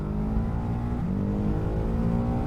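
A Ducati Hypermotard SP twin-cylinder motorcycle engine runs with a steady, throbbing mid-pitched drone, fairly close and continuous, with no voices over it.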